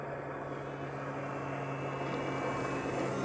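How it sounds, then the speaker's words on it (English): Air Tractor crop duster airplane flying low over agricultural fields at dusk, a steady distant engine drone with a constant tonal hum, faint and unchanging throughout. "It's a crop duster."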